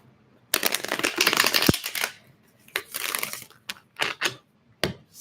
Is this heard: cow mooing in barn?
no